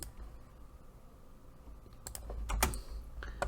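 Commands typed on a computer keyboard while working in AutoCAD, a quiet run of soft key taps followed by a few sharper, louder clicks near the end.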